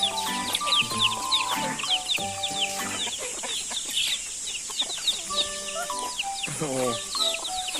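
Several chickens cluck and squawk close by in a busy, continuous chorus, with a voice heard now and then.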